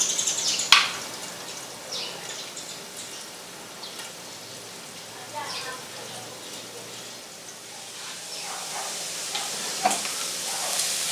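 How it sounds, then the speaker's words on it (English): Mushrooms, onion and garlic cooking in a pan give a steady soft sizzle, with an occasional clink or scrape of stirring and no one talking. "The already cooked mushrooms in the pan to cook with the onion and garlic."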